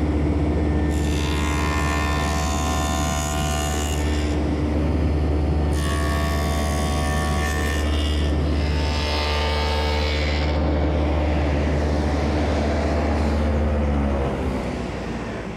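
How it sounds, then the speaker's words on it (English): A table saw cuts a dado into a dresser's center frame, its loud steady motor whine running throughout as the blade bites in and out of the wood in a few sustained passes. "Now for the center frame, I run a dado on both sides."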